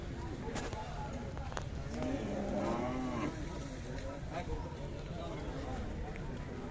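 Cattle moo at the Sangola cattle market, a faint drawn-out lowing partly buried under constant crowd noise and background bustle, with scattered voices around.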